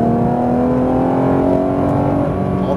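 Porsche 991 GT3 RS engine accelerating hard on a track, a loud, steady, rising mechanical drone that holds close and continuous throughout without any talk.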